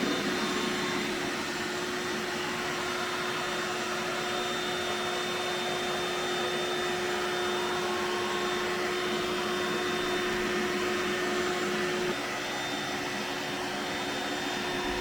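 A Lefant M210 Pro Omni robot vacuum cleaning along the walls of a room hums steadily and loudly at close range, its motor and side brushes shifting slightly in tone near the end, with no voices.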